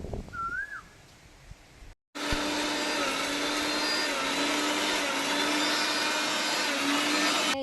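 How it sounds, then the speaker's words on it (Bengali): Mixer grinder whirring loudly and steadily as it grinds roasted coriander, cumin and fennel seeds for mango pickle, starting abruptly after a brief quiet pause and running continuously to the end. "ধনে, জিরে আর মৌরি যেটা ভেজে রেখেছিলাম সেটা মিক্সিতে গুঁড়ো করে নেব।"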